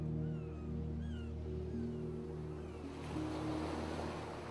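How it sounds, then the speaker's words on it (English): Ocean waves roll and wash against wooden docks at night as a steady, full surf rumble, with faint high chirping cries drifting above and a swelling rush of water near the end. "sounds of the waves crashing in on the docks."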